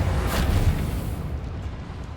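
A Bombarda blast spell in Hogwarts Legacy booms out as one loud, rumbling explosion that swells early and then rolls away into a dense, gritty tail with no talking over it.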